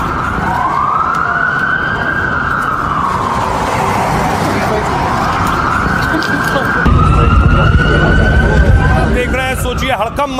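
Police car and ambulance sirens wail outside a Washington hotel during a shooting alarm, a loud rising and falling tone steady for the whole stretch with a harsher second siren joining near the end over traffic noise.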